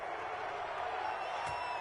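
A continuous distant crowd roar from a stadium in a Madden 21 football video game, reacting to a call, fairly faint and even, with a brief louder swell near the end.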